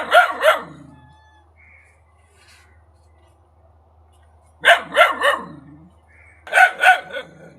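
A Chippiparai dog barks loudly and close by in short clusters: a quick double bark, a pause of several seconds, then a run of three barks and another pair, with quiet in between.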